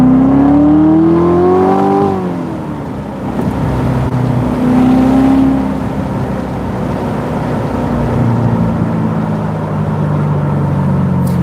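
A Chevrolet Corvette C7 Z06 accelerates hard on a side road, its engine revving loudly and climbing through rising gears, with a clear pitch sweep, a dip at a shift, then another strong climb and a sustained roar, heard from inside the car.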